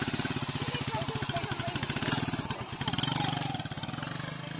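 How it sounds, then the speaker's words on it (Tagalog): A motorcycle engine labors uphill in the rural hills of Sitio Taloytoy, a steady pulsing putter that stays prominent and moderately close through the whole stretch, with no talk over it. "Umakyat yung motor doon."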